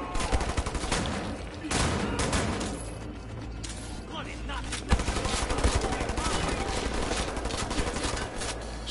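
Sustained automatic gunfire rattles through a Wolfenstein: The New Order firefight, dense rapid shots with heavier bangs punctuating, loud and continuous, while someone talks over it.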